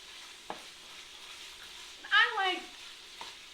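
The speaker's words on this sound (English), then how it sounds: "You'll see our meat is starting to brown here." Beef browns in a pan for beef stroganoff with a low steady sizzle, and a short burst of stirring and scraping comes midway. Small clicks land at the start and near the end. No one talks.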